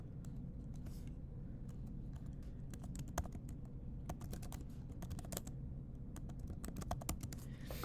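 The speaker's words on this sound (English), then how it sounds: "I would type in antecedent percentages" Quiet typing on a computer keyboard for an Excel line graph, with soft, irregular key taps over a steady low room hum.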